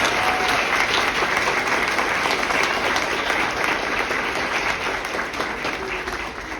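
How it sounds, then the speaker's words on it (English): Audience applause at a kindergarten graduation honoring the teachers, a steady dense wash of clapping from a sizable crowd that holds throughout and tapers slightly near the end. "Mrs. Grant and Mrs. Sky, let's give them a round of applause."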